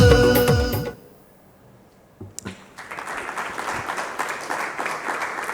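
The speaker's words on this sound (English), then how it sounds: "I think a round of applause for Nathealth, the funders, and of course the team that worked on the ground." Healthcare summit audience at a CSR awards event breaks into applause after music cuts out and a brief quiet, the clapping building into a steady moderate crowd sound.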